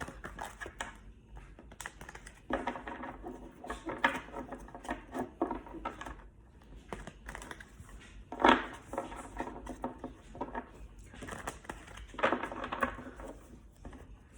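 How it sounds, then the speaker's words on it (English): Tarot cards being shuffled by hand make soft, close riffling and tapping bursts in irregular clusters, quiet and with no voice over them. "Gonna shuffle these for a while."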